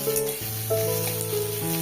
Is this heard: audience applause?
no